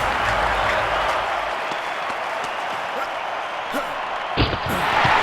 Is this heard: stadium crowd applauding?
yes